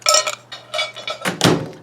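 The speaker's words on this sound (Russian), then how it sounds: "достаем стеклянный поддон" Glass turntable tray lifted out of a microwave oven during repair, giving a few short clinks and knocks of glass against the oven cavity over a faint low hum, close and clear.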